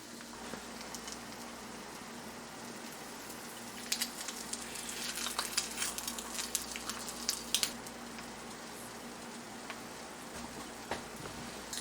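An egg frying in a carbon steel pan, a soft continuous sizzle with scattered crackles and ticking pops that grow busier partway through, fairly quiet with no talking.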